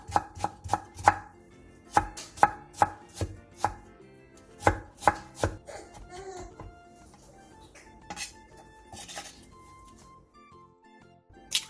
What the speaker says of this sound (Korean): 당근 조금을 잘게 다져주세요.